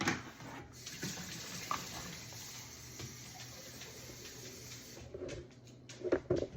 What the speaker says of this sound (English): next we're going to add 2 cups of warm water